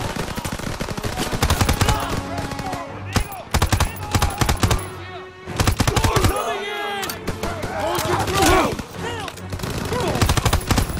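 Dense bursts of automatic weapon fire and single shots in a Call of Duty WW2 campaign tank battle, loud and close, with explosions and voices shouting between the volleys.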